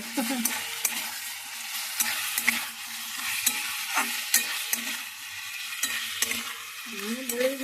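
Spatula steadily stirring and scraping through ingredients sizzling in a hot pan while cooking potato and egg kosha, with a continuous close fry crackle broken by repeated scrapes against the metal.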